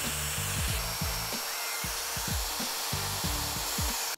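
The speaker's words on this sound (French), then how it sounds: "Je vais utiliser une lime à chantourner." A fretsaw file is drawn by hand across an iron pergola in repeated rasping strokes, about two per second, each a close, gritty scrape with brief pauses between.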